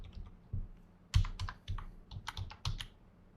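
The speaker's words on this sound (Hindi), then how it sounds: "मेरा कीबोर्ड थोड़ा बैड बिहेव कर रहा है," Typing on a computer keyboard that is acting up, with irregular bursts of clattering keystrokes and a few short pauses between them, heard close and alone.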